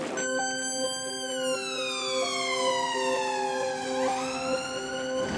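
A police car siren wails through a quiet, near-empty city shopping street, its pitch sweeping up and down in long, loud cycles with no other sound competing.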